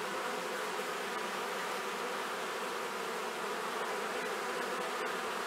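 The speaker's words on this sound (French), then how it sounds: "On entend bien le bourdonnement." A swarming colony of honeybees buzzes loudly and continuously outdoors, a dense steady drone with no voices over it.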